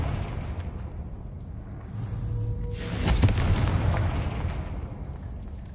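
A Confringo blast spell explosion in the Hogwarts Legacy video game: a loud, roaring burst erupts partway through and rumbles on over a dense background of game ambience.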